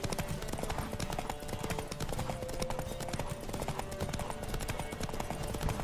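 Galloping horse hooves pound in a dense, constant clatter during a horse race in the Witcher 3 video game, loud and continuous under game sound.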